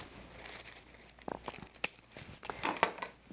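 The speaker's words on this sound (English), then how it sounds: "Now I'm going to trim the wire." Wire stem of a crepe paper peony trimmed with cutters, giving a few quiet, sharp snips and crinkles of paper close by, with short pauses between cuts and no talking.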